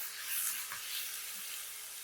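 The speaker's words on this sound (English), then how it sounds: "Fry these for about 6 minutes until they turn translucent." Finely chopped onions fry in a quarter cup of hot oil in a pan over medium-high heat, giving a faint, steady hiss and sizzle with no voices.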